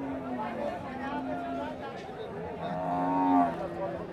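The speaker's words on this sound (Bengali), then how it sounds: "তারপর এটা কয় দাঁতের মহিষ সুমন ভাই?" A buffalo at a rural cattle market in Pabna lows faintly among other livestock, set against a steady murmur of crowd chatter and nearby voices.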